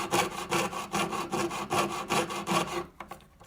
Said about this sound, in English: Saw to the edge of your pattern, not onto the actual line, because it can make it too thin